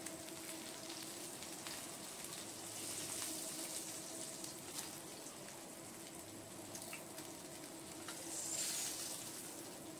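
Panch phoron spices and a dried chilli sizzle steadily in hot oil, a continuous soft frying hiss close by with faint crackles and no talking.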